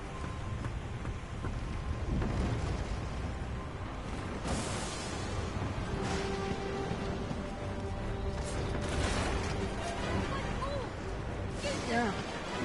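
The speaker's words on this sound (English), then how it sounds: "it's raining" In the video game Divinity 2, steady rain hisses and patters in a thunderstorm, with distant rumbles of thunder rolling beneath it.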